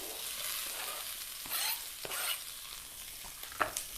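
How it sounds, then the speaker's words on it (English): Onions fry with aromatic spices for chole, giving a soft, steady sizzle broken by occasional stirring scrapes and light clinks, quiet and close, without any talking. "once your spices are nice and aromatic and fragrant, go in with your onions."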